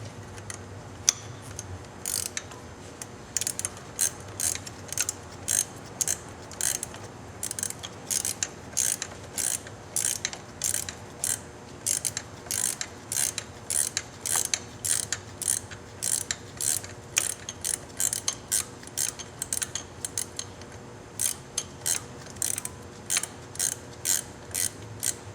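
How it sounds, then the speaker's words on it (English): A ratcheting wrench clicks steadily as it turns the bolts on a motorcycle's rear master cylinder cover, with quick bursts of sharp close ticks repeated in runs, no one talking. "I'm using a ratcheting wrench"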